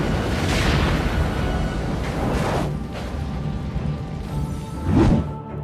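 A powerful explosion erupts in an action film scene as fire reaches a gang. Loud rumbling, crashing roars continue throughout, with a sharper blast near the end.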